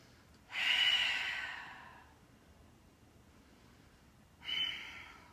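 Breathing in a yoga child's pose, a long close exhale whooshing out and fading over about a second and a half, then a quieter pause and a second shorter breath.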